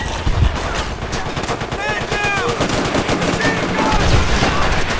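Sustained machine gun fire in the Call of Duty: World at War video game, rapid dense bursts running the whole time amid battlefield noise, with shouted voices over the top.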